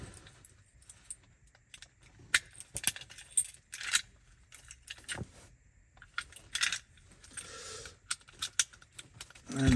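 Keys and a brass British Standard 5-lever mortice sashlock clink and rattle as they are handled, a run of sharp metallic jingles and taps spread unevenly over several seconds, close and without talk.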